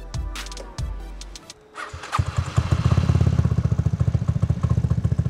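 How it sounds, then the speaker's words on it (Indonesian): A few clicks and clunks, then a Vespa S scooter engine cranks and catches, settling into a loud, steady putt-putting idle from the exhaust close by. "kita coba hidupin sekarang motornya ya, seperti apa bunyi knalpotnya"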